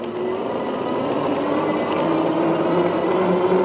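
Jansno X50 e-bike running on throttle alone at level 3, a continuous broadband rush of motor whine and wind noise, loud and steady throughout.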